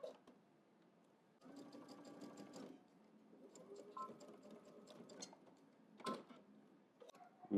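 A sewing machine stitches the seams of a double-breasted jacket in short, quiet runs, each a rapid mechanical whir with a humming motor, separated by pauses and a few clicks and clunks.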